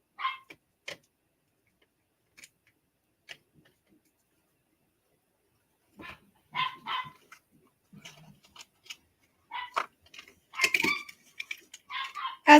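Dogs play indoors during a home yard sale, giving sparse, short barks and yips that build into a busier cluster toward the end, mostly moderate in level with quiet pauses between.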